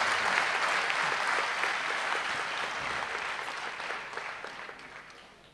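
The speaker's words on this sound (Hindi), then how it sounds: "जरा जोरदार तालियों से उन्हें नवाजिएगा।" Loud audience applause fills a comedy stage show, steady clapping from a large crowd that slowly fades toward the end.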